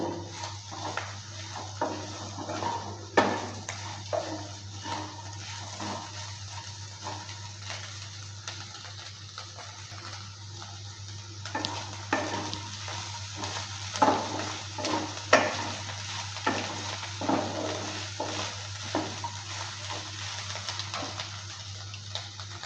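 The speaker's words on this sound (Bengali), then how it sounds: "এভাবে করে কিছুক্ষণ সময় নিয়ে ভালো করে নেড়ে চেড়ে নিয়ে ভেজে নেব" Pointed gourd peel mash with soybean being stirred and fried in a pan, a steady low sizzle under repeated scraping strokes of the spatula, close and moderately loud, with no talking.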